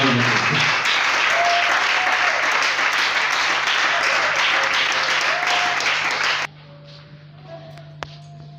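Dense, sustained audience applause at a church youth seminar fills the room for about six seconds, then stops abruptly, leaving a low hum and a few faint taps.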